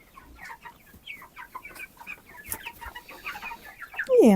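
Broiler chickens in a farmyard flock clucking in a steady, busy chatter of short calls at close range, with a louder burst near the end.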